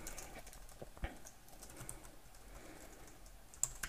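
Quiet clicking of computer keys at an irregular pace, typing out code for a Bukkit plugin, close and faint with a few sharper clacks.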